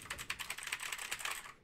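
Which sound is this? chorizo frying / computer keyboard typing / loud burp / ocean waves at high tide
computer keyboard typing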